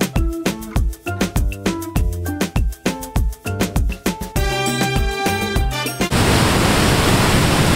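After rhythmic music cuts off, heavy discharge water from the Mullaperiyar dam near Thekkady roars in a loud, continuous, broadband rush for the last couple of seconds.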